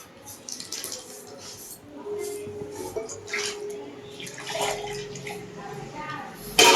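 Water pours in a steady, gentle stream for several seconds, with faint murmuring voices in the background and a louder splash at the end.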